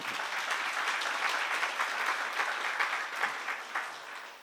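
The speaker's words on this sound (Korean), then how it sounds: "박수로 하세요." Sustained applause from a congregation at a church seminar session, a dense, steady wash of many hands clapping that continues evenly throughout at moderate loudness, with no speech over it.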